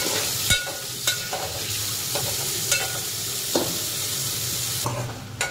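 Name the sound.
sautéing red pumpkin vegetable with sugar and salt in a pan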